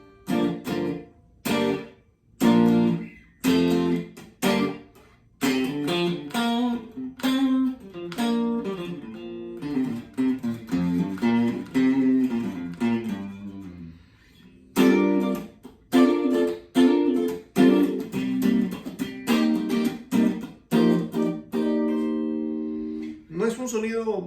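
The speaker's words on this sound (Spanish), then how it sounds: "Si yo apago las cosas que tengo acá y le bajo un poco el reverb del amplificador, la guitarra suena así" Clean electric guitar played through an amplifier with effects switched off and the amp reverb turned down, a sequence of plucked notes and strummed chords with short gaps and ringing sustains, close and alone.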